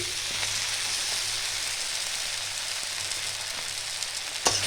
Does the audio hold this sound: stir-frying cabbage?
yes